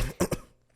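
A man clears his throat in two quick, rough bursts close to the microphone, followed by a brief silence.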